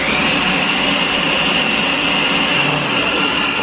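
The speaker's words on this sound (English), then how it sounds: "He likes the blender, huh?" A kitchen blender runs steadily at close range, giving a loud, continuous motor whine with broadband whirring and no pauses, at an Easter party.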